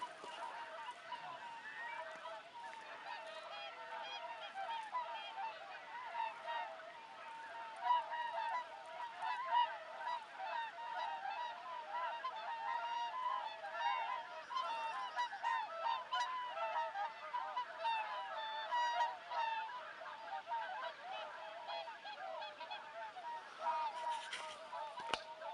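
A large spring flock of geese and swans honks continuously, a dense overlapping chorus of calls from many birds carrying steadily throughout without any talk.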